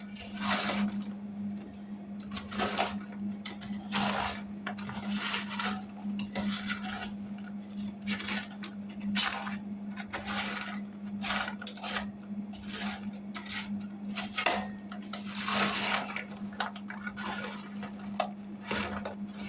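Candied pecans being stirred on a baking tray partway through oven roasting, a close series of irregular scraping, clattering taps of utensil on pan over a low steady hum, without talk.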